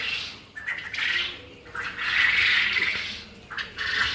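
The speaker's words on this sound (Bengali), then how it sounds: "এখন পুরুষ পাখিগুলো ভালোভাবে ধরে আমরা ক্যারেট করতেছি" Male quail being caught and packed into crates squawk in harsh, repeated bursts, several overlapping calls close by with rustling and no speech.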